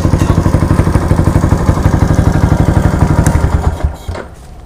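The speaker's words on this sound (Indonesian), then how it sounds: "Motor dah selesai dyno." A tuned motorcycle engine revs hard on a dyno, loud and close with a rapid pulsing firing rhythm that holds steady, then cuts off near the end.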